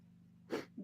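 A single sharp sneeze bursts out after a quiet moment of low background hum, followed by a brief softer sniff or breath near the end.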